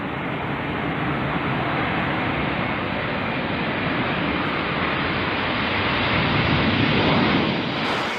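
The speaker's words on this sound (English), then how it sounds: "It's a big, powerful bomber that's been around since the 1950s." Engines of a large Boeing bomber in service since the 1950s roar as a continuous, loud, broadband rush that holds steady and swells slightly near the end, with no voices.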